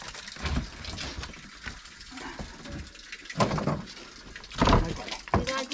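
Splashing, running water while a well is washed out inside, coming in uneven bursts and gushes, with voices talking over it.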